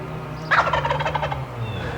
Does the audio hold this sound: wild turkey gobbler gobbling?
yes